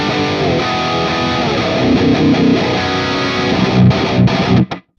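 Electric guitar played through an impulse response in an amp simulator, in mono: a steady, loud, distorted chord passage with driving rhythm that cuts off abruptly at the end.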